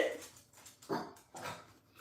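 A three-legged dog gives a few short barks or yips indoors, spaced apart at moderate loudness with no talking.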